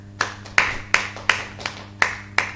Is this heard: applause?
yes